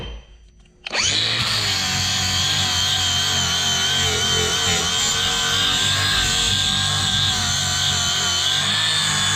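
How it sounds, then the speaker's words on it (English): Cordless angle grinder spinning up after a brief quiet moment, then a loud, steady high whine held close for the rest of the clip with slight wavering pitch, no speech. "cordless angle grinder"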